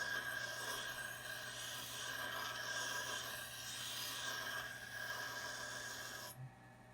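A blade is ground by hand on a stone, worked evenly from both ends, in a steady close rasping rub that continues for several seconds before stopping abruptly.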